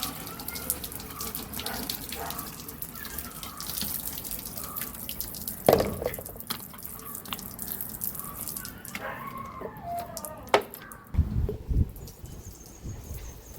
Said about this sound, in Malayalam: വെള്ളം ഒഴിക്കാൻ പോവാണ്